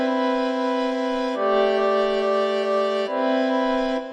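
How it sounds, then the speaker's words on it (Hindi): A sustained synth-like tone runs through FL Studio's Fruity Reverb 2 with the high cut turned fully up, so the wet tail sounds darker. Three held notes change pitch in turn with no gaps and no voices. "अब सुन सकते हैं कि हाई कट जब हम पूरा बढ़ा देते तो रिवर्ब की जो हाई फ्रीक्वेंसीज है वो"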